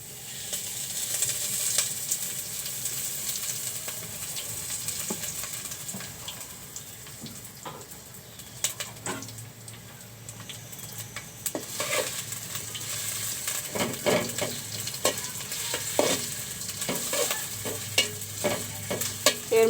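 Mustard oil sizzles in a pan with green chilies while vegetables fry, a steady crackling hiss broken by sharp scraping and clinking stirring strokes throughout.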